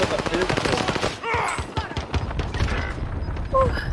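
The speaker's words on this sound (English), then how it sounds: "I killed him with a pistol" Rapid pistol gunshots from a video game crack in quick succession, loud and close, with a voice talking over the shooting.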